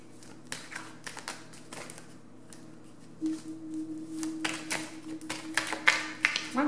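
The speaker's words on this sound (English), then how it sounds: "Why am I shuffling all retarded?" Tarot cards being shuffled by hand, a run of quick, crisp riffling taps and flutters near the microphone, uneven in rhythm and growing busier toward the end.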